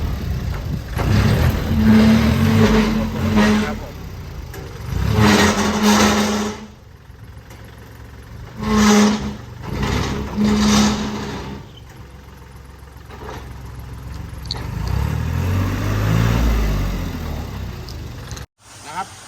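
Kubota L4018 tractor engine running steadily at idle while front four-wheel drive is tested, a low continuous mechanical hum that carries under intermittent talking throughout.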